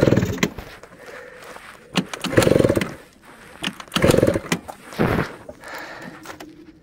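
A Malaguti F12 scooter with an 80cc two-stroke engine revs in short, uneven bursts that rise and fall, stuttering between blips and never settling into a steady run.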